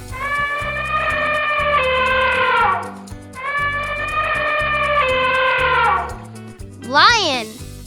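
An elephant trumpets twice in long, bright, brassy blasts of about three seconds each, loud and close, followed by a brief spoken voice.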